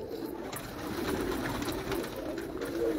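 Pigeons coo in a continuous low, throaty murmur close by, steady throughout with faint background rustle and no speech.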